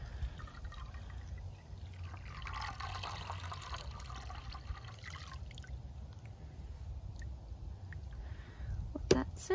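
Raw wool is lifted out of its second rinse bath, water trickling and dripping back steadily at close range, with low background noise and a few faint clinks near the end.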